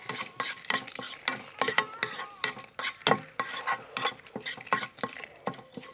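Curry leaves for a pachadi curry are stirred in a hot pan, with a brisk, regular run of around fifteen scraping strokes over a light sizzle.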